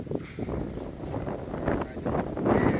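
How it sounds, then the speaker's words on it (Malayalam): Wind gusting outdoors at the Isha Adiyogi site near Coimbatore, on the road from Palakkad, roars as steady broadband buffeting across the microphone, swelling louder toward the end, with no clear talk over it. "നല്ല കാറ്റ്"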